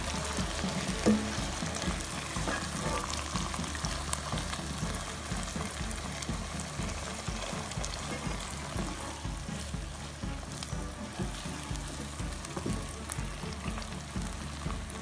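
Chicken pieces frying in a pan while being roasted down, giving a soft, steady sizzle with small crackles and occasional stirring scrapes, moderately quiet and continuous.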